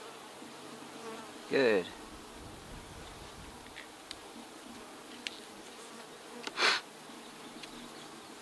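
Honey bees hum faintly and steadily around an open hive, with two louder buzzes as single bees pass close by the microphone. A person speaks softly a few times.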